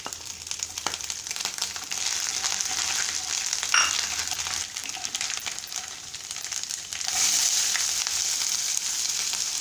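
Coconut pieces and chana dal fry in hot oil after mustard seeds have popped, for kuzhi paniyaram. A close, steady crackling sizzle continues throughout with occasional faint clinks.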